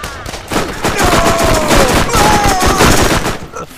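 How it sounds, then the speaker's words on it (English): Enemy gunfire from a bandit in the video game Borderlands, a dense loud volley of rapid shots lasting a few seconds, with a voice heard faintly underneath. "There's a bandit killer shooting at you guys."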